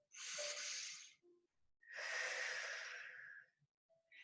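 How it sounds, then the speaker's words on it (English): Two slow, unhurried breaths during a stretching class, a long airy inhale and then a longer, louder exhale, close to the microphone with quiet pauses between them. "Take a resting breath in and out."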